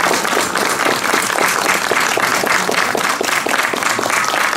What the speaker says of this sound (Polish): Ludzie brawa trzeba.